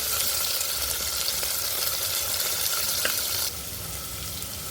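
Three large sliced onions with cloves and cardamom frying in hot oil for a plain vegetarian salna, giving a steady close sizzle that drops slightly quieter toward the end, with no talking.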